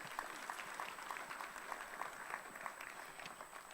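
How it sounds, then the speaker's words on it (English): Audience at a financial inclusion policy conference session clapping for the session moderator, a steady, dense patter of many hands at moderate distance, sustained without pause. "can we also give a round of applause for our moderator for this session?"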